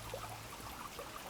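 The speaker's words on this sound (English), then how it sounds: "So the water coming out from the wall like this" Spring water trickling out of a rock wall at the Cheonjeyeon Waterfalls on Jeju, a faint, quiet dribble with soft irregular splashes and no voices.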